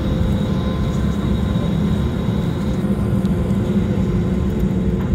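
Inside the cabin of an Iberia Airbus A320neo flying from Madrid to Bilbao during storm Filomena, a steady, dense engine roar with a low rumble fills the whole stretch without letup.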